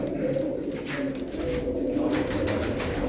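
Pigeons coo softly and continuously nearby, low rolling calls overlapping one another with a faint background murmur.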